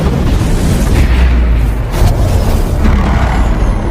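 An explosion in the 2022 film Samaritan: a deep, continuous booming blast with heavy low rumble and crackling debris, loud and close, rolling on for several seconds.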